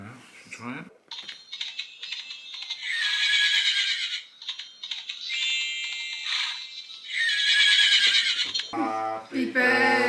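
A unicorn ride-on toy's sound unit plays a bright electronic horse neigh, followed by more neighing and clip-clop-like effects, with a voice and adult speech heard toward the end.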